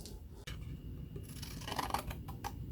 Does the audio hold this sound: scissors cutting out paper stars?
yes